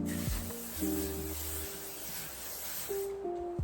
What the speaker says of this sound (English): I am gonna just add some setting spray